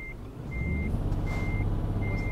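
Truck reversing alarm in the Euro Truck Simulator 2 video game: a steady series of four clear, evenly spaced electronic beeps over a low engine rumble.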